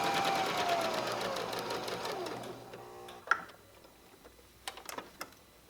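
A sewing machine stitches a quilted pillow seam in a rapid mechanical whir that slows and stops, followed by a few isolated clicks and single-stitch taps.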